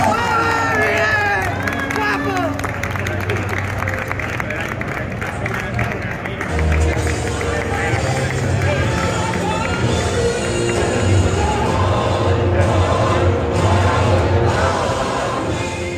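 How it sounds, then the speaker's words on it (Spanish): A crowd at a karting race gives an ovation for the champion in kart number 14, with cheering and scattered clapping mixed into a busy hubbub while voices talk over it throughout. "se hace el silencio para recibir con una fuerte ovación al campeón en el día de hoy"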